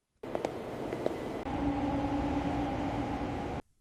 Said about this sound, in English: Our train is arriving now.